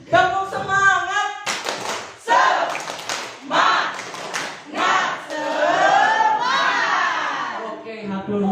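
A group at a community learning centre does a rhythmic spirit clap, clustered bursts of hand claps in a patterned beat punctuated by shouted group chants and cheering voices.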